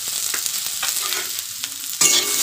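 Food being stirred in a sizzling frying pan, seasoned with turmeric and salt, with close scraping strokes over a constant frying hiss and a sharp burst of sizzle near the end.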